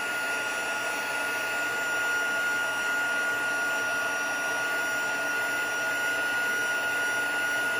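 A heat tool used to melt embossing powder blows with a steady, even, hairdryer-like whoosh and high whine, close and constant throughout with no pauses.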